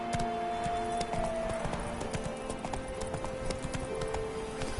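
Hooves of the horse in The Witcher 3 clip-clop in a quick, steady galloping rhythm, close and continuous with no talking over them.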